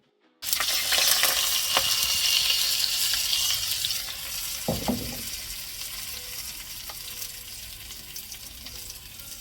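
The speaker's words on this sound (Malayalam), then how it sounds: "ഒഴിച്ചിട്ട് കടുകും 2-3 വറ്റൽമുളകും കറിവേപ്പിലയും കൂടെ പൊട്ടിച്ച്" Mustard seeds, two or three dried red chillies and curry leaves splutter in hot oil for a Kerala pumpkin pachadi, a loud crackling sizzle bursting in suddenly and slowly easing, with a brief stir partway.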